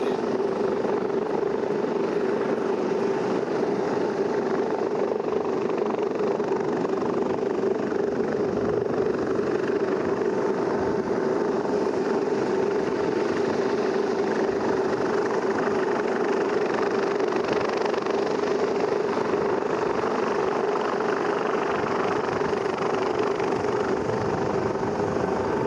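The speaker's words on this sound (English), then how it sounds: "the aft part of the helicopter helping our swimmer on board, Darian Dwyer from the Coast Guard." A Coast Guard helicopter flies at an air show, its rotor and turbine producing a loud, continuous, steady drone that holds without letup throughout.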